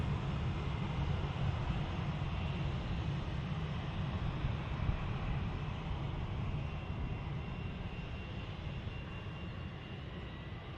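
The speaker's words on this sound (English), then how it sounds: "Looks like the Dreamliner is going to be departing now." A jet airliner, a Boeing 787 Dreamliner, departs Manchester Airport with a steady, broadband engine roar. The sound holds at an even loudness throughout, without talk.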